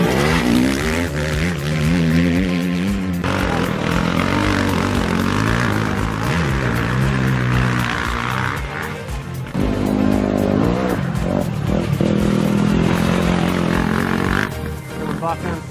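A two-stroke dirt bike revs and rides around a muddy motocross track, its engine note rising and falling with continuous loud buzzing and other bikes blending in, with people talking over it.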